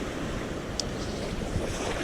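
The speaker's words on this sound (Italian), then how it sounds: "con il mare in scaduta, le onde abbastanza ampie" Sea waves on a rough, subsiding sea break against the coast, a steady broad wash of surf with wind, close and loud, with no voices.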